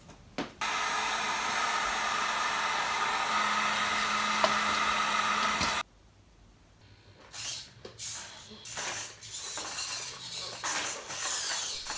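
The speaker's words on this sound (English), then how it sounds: "this white plastic here, that can be heated with a hot air gun and bent into curves" A hot air gun heating white 1/8-inch PVC project plastic blows a steady, loud whooshing roar for several seconds, then cuts off abruptly, leaving quieter clinks and handling noises.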